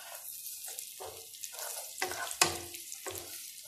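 Raisins and onions fry in hot oil for quail biryani, a close sizzle broken into bursts by repeated stirring scrapes, one sharper clack near the middle.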